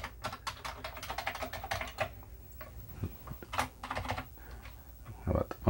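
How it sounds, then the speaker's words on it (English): Keys clatter in quick, irregular bursts on a Commodore 64 keyboard that had sat idle for 27 years, close and crisp, with brief pauses between runs of presses and no talking. "So I'm just randomly keying, hitting keys at this point."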